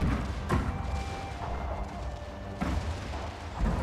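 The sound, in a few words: cannon fire in a video game battle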